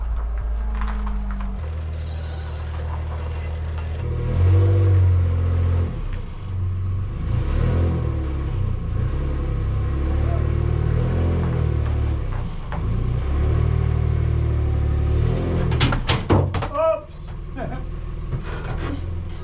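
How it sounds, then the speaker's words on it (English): A car is driven out of a residential garage, its engine idling low and then revving as it moves off, rumbling steadily nearby with a few knocks and clatters toward the end. "Al's gonna move his car out of the garage"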